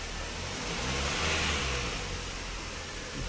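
Kia Cerato 2 engine held steady at around 2000–2500 rpm during an injector flush, a continuous close, even mid-pitched drone with a slight swell in the middle and no talking.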